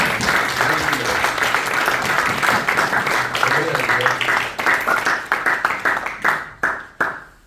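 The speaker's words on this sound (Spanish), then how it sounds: "Un aplauso a nuestro Señor Jesucristo." A church congregation at a Sunday service claps together, steady loud applause that thins into scattered rhythmic claps before stopping.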